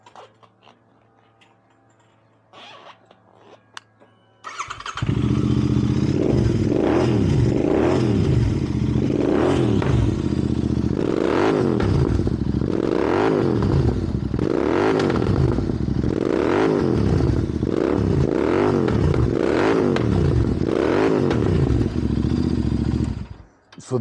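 A five-speed motorcycle with spoke wheels and about 50 horsepower starts after a brief quiet moment, then idles loudly in neutral with steady repeated revs rising and falling, close and continuous with no talk.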